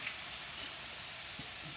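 Vegetables simmer in a pan with red cooking wine on a medium-high stove, giving a steady, soft sizzling hiss with faint crackles. The sound is low in level and continuous, with no talking.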